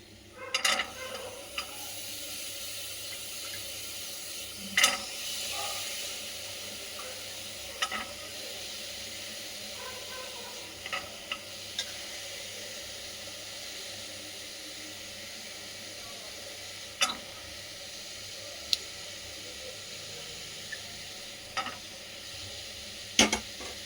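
Soaked chana being stirred with spices and chicken keema in a pan, a soft steady sizzle with scattered spoon scrapes and clinks recurring every few seconds, no voices.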